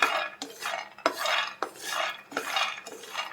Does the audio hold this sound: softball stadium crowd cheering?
no